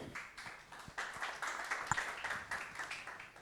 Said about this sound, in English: Ladies and gentlemen, round of applause, Dr. Preesan.